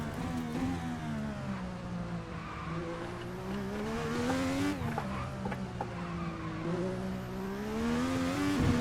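Race car drifting out of a chicane, a steady loud engine drone with rising and falling pitch as it revs through the turn, accompanied by tire squeal, heard from inside or close to the car with no talking.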